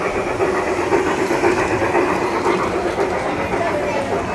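Toy train carrying food along its track at a train-themed restaurant in Hyderabad, a steady rumbling clatter that holds without a break, with diners' chatter mixed underneath.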